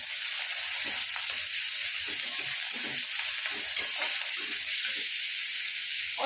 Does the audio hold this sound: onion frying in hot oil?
yes